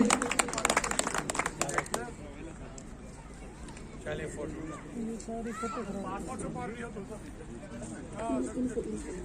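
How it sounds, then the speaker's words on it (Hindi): A short burst of clapping from an audience at a Mehfil-i-Kashmir Society International honour ceremony greets Mohammad Ashraf, fading after about two seconds as a voice talks over the room. "एक बार जोरदार तालियां दिल खोल के इनके लिए बजा दीजिए।"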